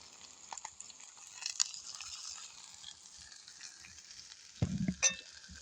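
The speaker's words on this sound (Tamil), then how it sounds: "நாங்கள் வெட்டி வச்சிருக்கிற வெங்காயத்தை முதல்ல போட்டு வதக்குவோம் அதோடு சேர்த்து இந்த பச்சை மிளகாயையும் போட்டுக்கொள்ளுவோம்" Chopped onion and green chillies sautéing in oil in a village kitchen, a soft, fairly quiet sizzle with a few stirring scrapes and a louder clatter near the end.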